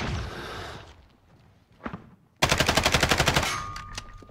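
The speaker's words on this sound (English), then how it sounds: "I think there's two teams shooting us." Video game gunfire from two enemy teams: a muffled burst fades into quiet, a lone shot pops, then a loud, close, steady rapid-fire automatic burst of about a dozen evenly spaced rounds.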